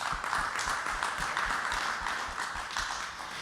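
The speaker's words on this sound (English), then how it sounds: "Let's give Mayor Anderson a round of applause." A men's leadership gathering gives a round of applause, a steady wash of many hands clapping that lasts throughout and fades slightly at the end.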